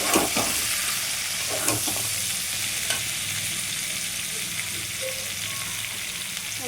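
Boiled taro stolons (loti) going into a hot pan over raised heat, a steady, fairly loud sizzle with a few stirring knocks near the start, and no talking.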